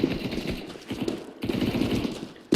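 Rapid automatic gunfire from Counter Strike 2 gameplay, bursts of close, crackling shots in quick rhythm with brief pauses, a loud shot at the very end.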